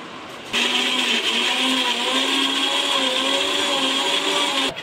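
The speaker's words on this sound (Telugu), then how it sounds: "అల్లం అనేది, అది ఇప్పుడు మిక్సీకి పట్టుకోవాలి మనం" A mixer grinder grinding ginger and garlic starts abruptly and whirs at a steady high pitch for several seconds, loud and close, then cuts off at the end.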